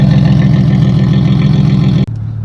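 A single-turbo Nissan 350Z with an HR engine, test pipes and a straight-pipe exhaust idles with a loud, steady low rumble that cuts off abruptly near the end to a quieter, lower drone.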